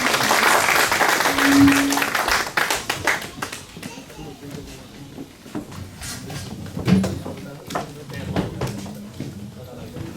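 Church congregation applauding a member named Harry: strong clapping at first that thins into scattered claps and knocks, with someone speaking over it as it fades.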